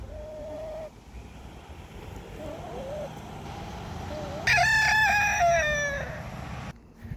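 A rooster crows loudly nearby, preceded by softer clucking and calls from hens in an outdoor garden setting.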